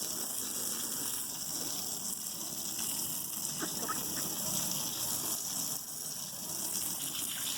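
Steady hiss of water spraying from a hose at moderate pressure, rinsing out a duck pen at night in winter, continuous and fairly close, with faint splashing and no talking.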